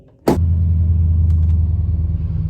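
A Chevrolet Impala SS engine fires up with a sharp crank and catches at once, settling into a loud, deep, throbbing idle close by.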